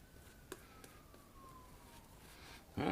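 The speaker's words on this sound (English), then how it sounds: "I hear some sirens outside." A faint siren wails in the distance, its tone slowly sliding downward, under quiet room noise with a couple of soft clicks.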